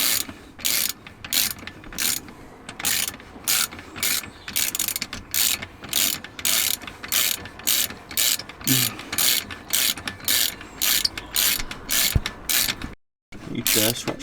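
Ratchet wrench clicking rapidly in steady bursts while tightening a very long bolt on a VW Golf GTI Mk7, close and fairly loud, with brief pauses between strokes and no talking.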